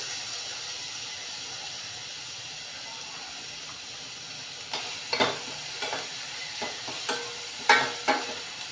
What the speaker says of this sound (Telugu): తాలింపులో వేసి ఒక రెండు నిమిషాలు వేగనివ్వాలి